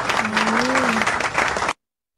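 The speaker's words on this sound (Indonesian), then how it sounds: "Tepuk tangan untuk Tuhan Yesus." Congregation applauding during an evening church service, a dense, loud burst of clapping with a voice calling out over it before it cuts off abruptly.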